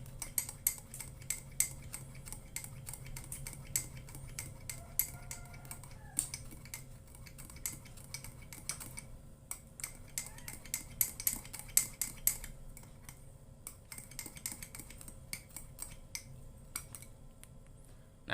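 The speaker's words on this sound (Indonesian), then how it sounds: "Kita aduk sampai susu dan extra josnya itu tercampur rata" A spoon stirs milk and Extra Joss energy drink powder in a glass, producing quick repeated clinks and taps against the sides, light and close, with short pauses between bursts of stirring.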